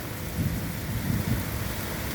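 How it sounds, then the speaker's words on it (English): Steady heavy rain pours down with a constant dense hiss, and low rumbling swells rise and fall beneath it. "it's starting to really rain though"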